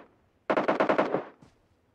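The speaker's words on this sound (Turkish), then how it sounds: "Her yerden sıkıyorlar ya." A rapid burst of automatic gunfire in the PUBG Mobile video game, about eight close, loud shots in quick rhythm, followed by a fainter single report.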